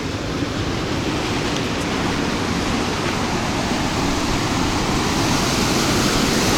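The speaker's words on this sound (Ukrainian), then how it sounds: "Це скид підфільтрованої води, типу з каналізації." Filtered sewage water discharging constantly into an estuary, a steady, loud, broadband rush of pouring water that holds even throughout, close by with no talk.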